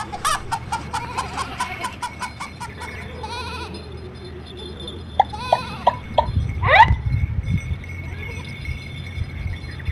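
A rooster in a farmyard clucks and calls in short bursts amid a steady outdoor background, with a louder squawk near the middle and fluttery rustling; a person's movements can be heard faintly at times.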